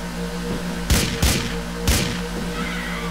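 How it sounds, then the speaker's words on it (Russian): Gunfire from enemies in a helicopter or boat rakes the player in Grand Theft Auto IV, three sharp loud bursts cracking over a steady engine drone with a short pause between each. "Ой, они по нам стреляют."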